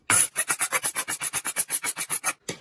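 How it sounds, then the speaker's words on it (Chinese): A kitchen cleaver is drawn across an ordinary whetstone in about eighteen quick, evenly spaced rasping strokes, each a crisp scrape close up, with a brief pause before the final stroke. "这个呢是普通的磨刀石"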